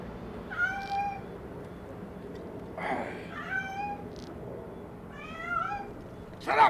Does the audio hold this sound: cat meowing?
yes